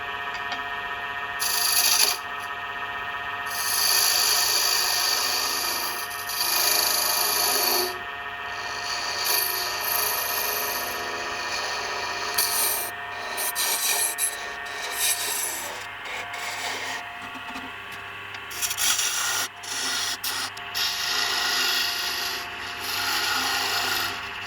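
A wood lathe parting tool cutting off a turned wooden piece, giving a steady, loud rubbing and scraping hum that shifts in texture as the cut deepens, continuous for the whole stretch with no talking.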